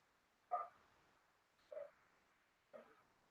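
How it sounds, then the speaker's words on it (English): Dogs bark in the background, three separate short barks spaced about a second apart, fairly faint and distant, with no talk over them. "Y'all hear these dogs barking?"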